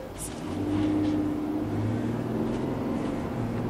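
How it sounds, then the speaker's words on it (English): A Roadtrek Zion Slumber V6 gas motorhome on a ProMaster chassis cruising along back roads, its engine a steady low hum with road and wind noise heard from inside the cabin. "And we're driving the brand new Roadtrek Zion Slumber model."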